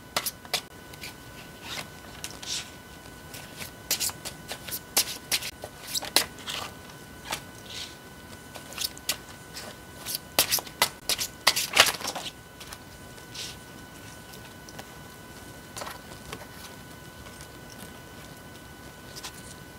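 Tarot cards being shuffled and handled: soft, irregular papery flicks and riffles that come in quick clusters, busiest near the middle, over a faint steady hum, with no voice.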